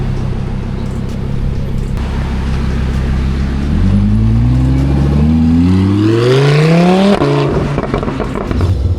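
A Lamborghini Huracán VOS Performance supercar engine revs loudly and close, pitch climbing steadily through several seconds before cutting off sharply, then settling back into a rough idle.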